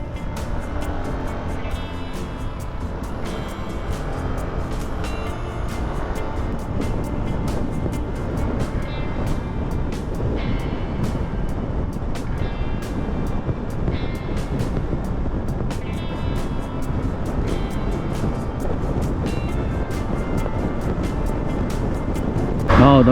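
Yamaha Aerox 155 and NMAX motorcycles cruising along the SRP highway in Cebu City give a continuous drone of engine and rushing wind, close and steady throughout.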